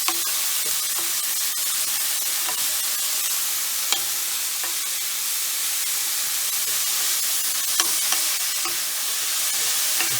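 Thin-layered green onions cooking in a pan for a spicy Indian lamb curry, giving a steady, even sizzle with soft stirring clicks and scrapes now and then, close and continuous throughout.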